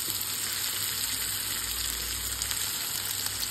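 An egg fries in a pan, giving a steady, even sizzle that holds for several seconds at close range with a faint low hum underneath and no talking.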